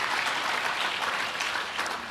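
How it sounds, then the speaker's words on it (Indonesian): A congregation applauding during an evening church prayer service, a brief, dense burst of many people clapping together, loud and steady with no talk over it. "Tepuk tangan dong buat Tuhan."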